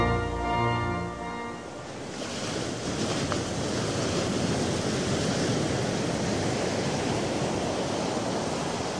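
Ocean surf rolls in as a loud, steady wash of crashing waves, continuous and close, with some wind noise on the microphone; a brief tonal sound fades out at the start.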